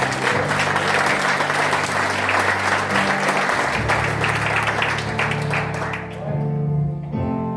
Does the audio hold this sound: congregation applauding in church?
yes